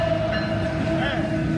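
A train rolls past close by as a steady, loud rumble with a sustained tonal whine running throughout, and a voice is faintly audible beneath it.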